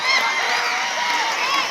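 Kabaddi semi-final crowd between Karnataka and Haryana women's teams, a dense sustained roar of cheering and clapping from the audience at steady loudness, with voices blending into the noise.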